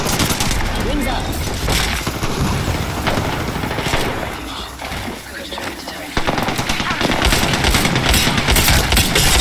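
Sustained automatic gunfire in an Apex Legends firefight, dense rapid bursts running almost the whole time with a brief lull midway, loud and close, with a voice talking over it.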